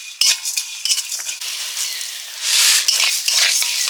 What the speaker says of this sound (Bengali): মশলা ভেজে নিচ্ছি। ধনে জিরে আর গোটা গরম মশলা আছে